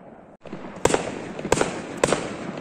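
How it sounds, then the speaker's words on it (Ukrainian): Canada Day fireworks over Orleans, Ontario, go off in three loud, sharp bursts, each a booming crack with a crackling tail over a steady outdoor background, with no talking. "Якраз салют почався."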